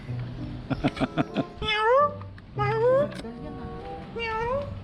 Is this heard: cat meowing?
yes